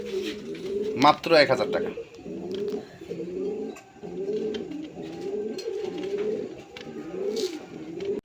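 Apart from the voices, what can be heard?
high-flying Gribas pigeons cooing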